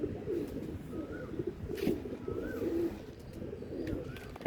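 Pigeons settle onto a rooftop loft, a low throaty cooing carrying steadily throughout with a few brief higher calls and faint flutters, moderately distant and without talk.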